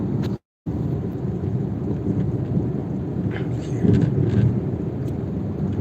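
Steady rain pours down in a dense, continuous hiss, briefly cutting out near the start, with no voices over it.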